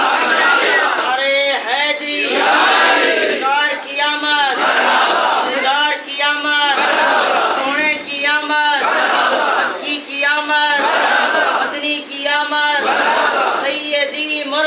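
A large religious crowd chants Nara-e Takbir slogans in loud, rhythmic call-and-response bursts, a lead voice alternating with the massed reply in regular waves.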